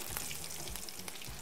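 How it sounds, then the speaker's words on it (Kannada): Garlic frying in tempering oil for foxtail millet khichdi gives a soft, steady sizzle with light crackles and occasional small pops, fairly quiet and close, with no speech. "ನೆಕ್ಸ್ಟ್ ಒಗ್ಗರಣೆ ಆದಮೇಲೆ ನಮ್ಮದು ಗಾರ್ಲಿಕ್ ಹಾಕಿಬಿಡುವ"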